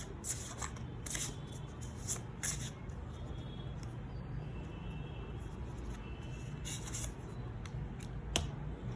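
A deck of cards is handled and shuffled up close, with soft riffling bursts and quick flicks in an irregular rhythm over a quiet room hum.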